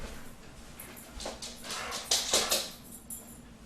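A pet dog, agitated and worked up indoors, lets out short yelps and whimpering cries that rise in a cluster near the middle, fairly close, over a low steady room hum.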